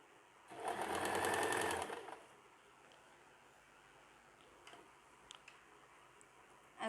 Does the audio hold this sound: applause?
no